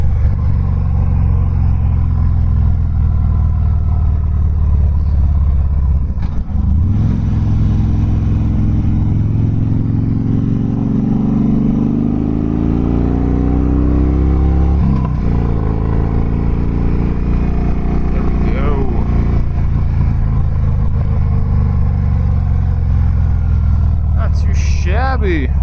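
A Harley-Davidson Dyna Fat Bob 103 motorcycle out on the road gives a continuous loud engine rumble with shifting revs as it leans through turns, running the whole time under the rider's talk.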